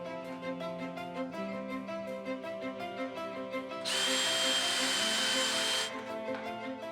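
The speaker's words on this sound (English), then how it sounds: "Just drill your pipe hole a bit deeper." A power drill boring a pipe hole whirs loudly for about two seconds, starting and stopping abruptly over a steady background motor hum, during renovation of a 160-year-old coach house.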